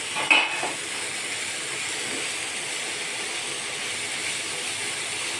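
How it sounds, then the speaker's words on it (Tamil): Carrot, beans and cabbage are stirred together in a pan, with one sharp scrape near the start and then a steady, fairly quiet sizzling hiss for the rest. "எல்லாத்தையும் ஒன்றா மிக்ஸ் பண்ணிவிட்டு நம்ம நல்லா சேர்த்துக்கல கிளறி விட்டுக்கலாம்"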